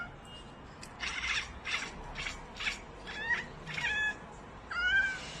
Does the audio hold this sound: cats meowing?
yes